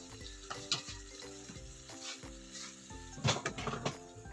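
Minced pork and tomato are stir-fried in a hot pan, with a constant soft sizzle broken by repeated scrapes and clinks of the utensil against the pan.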